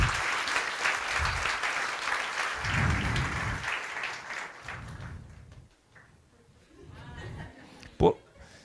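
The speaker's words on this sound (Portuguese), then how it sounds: "Uma salva de palmas para ela" Audience applause for Pastora Ângela at a church conference on intelligent design in Porto: several seconds of steady clapping that fades out, with a voice speaking over it and a short sharp knock near the end.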